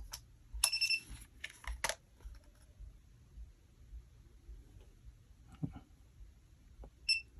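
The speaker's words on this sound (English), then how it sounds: "Wait until you hear the beep" A couple of short, high electronic beeps from a Shinho X950 device, with clicks and handling noise in between in a quiet room.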